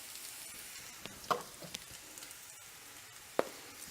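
Seasoned baby potatoes with cayenne, garlic powder and paprika sizzle softly in a cast iron skillet, a quiet steady fry broken by a few sharp scrape-and-clack stirs of the utensil against the pan.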